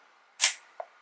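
A sharp Rollei 35 Classic film camera shutter click followed by a softer second click a moment later, both close and alone in near silence.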